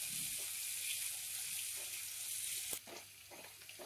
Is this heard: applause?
no